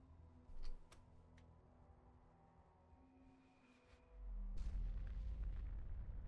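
A large explosion in the video game Fallout 4, a deep low boom swelling into a sustained rumbling roar in the second half after quieter ticking and thuds, fairly faint overall, with no voices.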